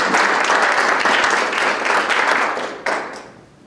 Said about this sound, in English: So let's give a round of applause to our staff and